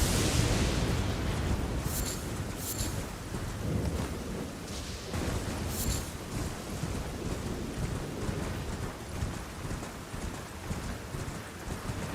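Lightning strikes crash in the Elden Ring video game, with sharp crackling bursts over a dense, continuous rumble of storm and battle noise.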